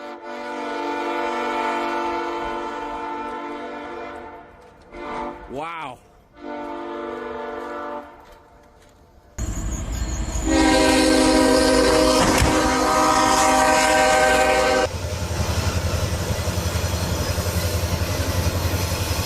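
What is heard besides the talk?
train approaching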